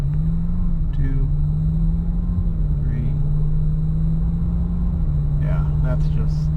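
Engine of a Lexus (LS430, GS430 or SC430) pulling away from a stop and running through the gears, a steady loud drone with pitch dips at shifts, continuous and close inside the car.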